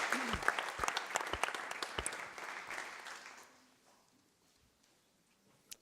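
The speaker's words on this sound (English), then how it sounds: "warm thank you, applause to Jan." A conference audience at a business process management round table applauds steadily for about three and a half seconds, then the clapping thins and fades into near silence.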